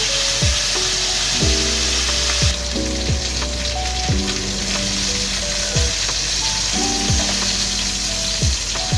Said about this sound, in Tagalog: pagka-prito na yan guys, nagigisa na ako